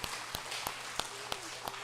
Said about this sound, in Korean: 우리 다시 한번 박수로 함께 영광 돌립시다